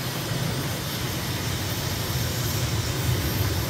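Aircraft engine running at full throttle for takeoff in Microsoft Flight Simulator, departing Cotonou, Benin: a steady, loud, unbroken roar with a deep low rumble that holds evenly throughout, with no speech.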